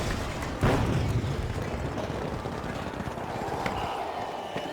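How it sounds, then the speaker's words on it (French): In the video game The Finals, an explosion goes off with a sharp, booming burst followed by crackling rumble and scattered debris, over continuous gameplay noise. "Placing an explosion."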